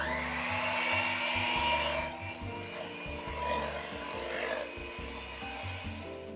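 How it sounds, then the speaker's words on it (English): Whisking two trifle ingredients together in a bowl, though the loud, steady motor whir suggests an electric mixer or blender running for about two seconds, then easing to a lower hum. "And then we're going to whisk the two together."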